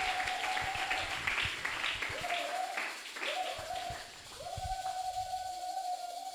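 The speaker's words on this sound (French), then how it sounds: "Est-ce qu'on peut encore acclamer?" Many hands clap together as a church congregation applauds, a broad, steady clatter that dips briefly midway and swells again, while a sustained organ or keyboard tone sounds in the background.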